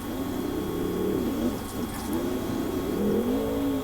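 Monster truck Avenger's engine roars and revs during a Monster Jam race in Arlington, a loud, sustained rumble with rising and falling pitch swells, heard at a distance through arena ambience.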